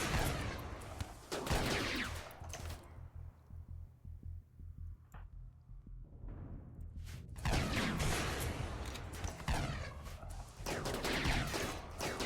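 Gunfire in the video game RimWorld comes in dense, loud bursts of repeated shots, with a quieter stretch in the middle of thumping hum and scattered single pops.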